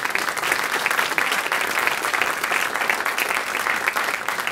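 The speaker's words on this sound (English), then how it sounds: "Round of applause." A large audience applauds a speaker walking onto the stage at a climate benefit concert, a dense and steady wash of clapping that stays loud throughout.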